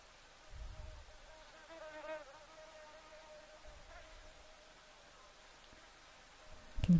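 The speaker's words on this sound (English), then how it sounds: "Can hear the flies buzzing here close to the camera" Flies buzz close to the microphone at an African waterhole, a faint, wavering drone rising in short swells amid quiet outdoor ambience, with a brief louder knock at the end.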